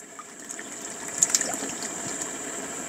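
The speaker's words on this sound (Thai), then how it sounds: "เดือดแล้วเราก็จะใส่กะทิลงไปค่ะใส่ลงไปเลยนี่คือ1ขวดตามด้วยขวดที่2" Coconut milk is poured from a bottle into a pot of boiling southern Thai curry broth, giving a steady liquid trickle and gush with a few brief splashes, close and moderately loud.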